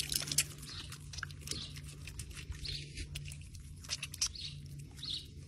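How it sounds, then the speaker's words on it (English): Water thrown over greasy hands during a Grip Clean hand-cleaner wash, giving a steady close splashing patter with scattered wet crackles over a low hum, no talking. "Another layer of water."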